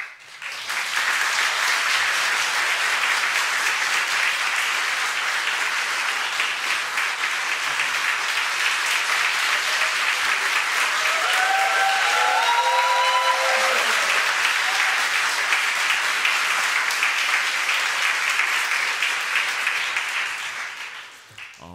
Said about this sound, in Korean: 환호성이 있으니까 뭔가 너무 팍 뜨네요